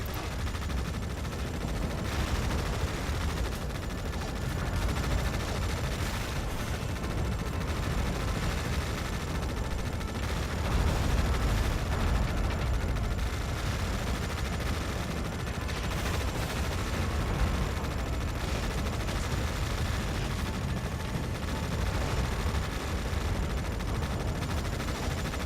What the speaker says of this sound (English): Artillery fire in our position.